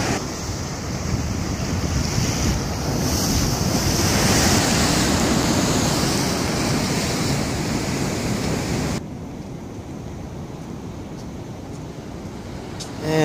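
Steady, loud ocean surf rolls in at a sunny, chilly beach near a marina, with wind buffeting the microphone. The roar continues, then drops to a quieter, softer wash for the last few seconds.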